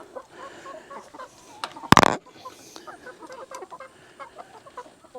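Backyard chickens clucking and murmuring softly nearby, with scattered calls and one sharp louder burst midway.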